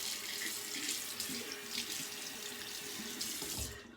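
Cold water runs steadily from a tap into a sink for a post-shave rinse, a constant close splashing hiss with no talking.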